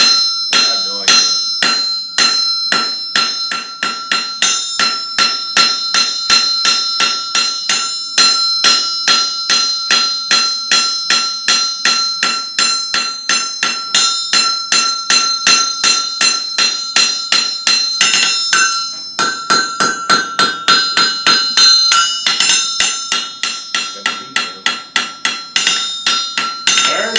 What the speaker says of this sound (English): A little more hammer right here, and that bit right there.